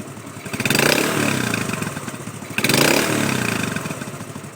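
A restored Honda motorcycle engine runs loudly up close, its rough chugging idle swelling twice with brief revs before settling back.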